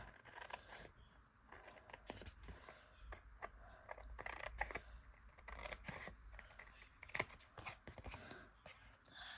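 Scissors trim a thin sliver of paper during card-making: a quiet, close string of irregular snips and crisp paper crackles with small handling clicks, heard alone with no talking.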